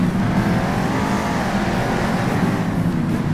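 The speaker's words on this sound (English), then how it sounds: "The sounds of the trucks." Monster truck engines rev with a steady, loud, throaty roar in Monster Jam Steel Titans, a continuous dense drone with no voices.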